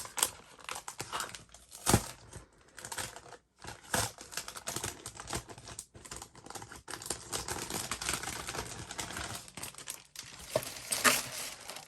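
Specialty papers and vellum for a handmade birthday card being handled, close crinkling and rustling with soft crackles and shuffles, irregular and continuous with brief quiet gaps.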